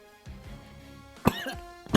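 A man coughs during a card-game session, a couple of harsh, abrupt hacking bursts separated by quiet gaps, with faint background tones underneath.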